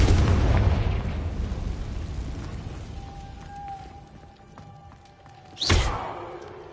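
A Confringo spell blast in Hogwarts Legacy: a sharp, loud burst near the end, rising out of a dense rumbling game soundscape with a thin sustained tone and scattered clicks earlier.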